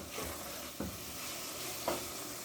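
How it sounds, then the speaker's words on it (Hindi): Minced mutton keema fries in a pan with cloves and whole black peppercorns, giving a faint, steady sizzle broken by a few soft stirring scrapes. "और इसको मैंने अभी कीमे को भूनना है।"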